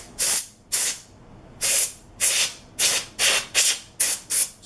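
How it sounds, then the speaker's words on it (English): Compressed air sprayed into the channel of a Glock 17 pistol during cleaning, nine sharp hissing bursts each under half a second, loud and close, spaced in an uneven rhythm with quiet gaps between. "you grab the compressed air and get down inside the channel"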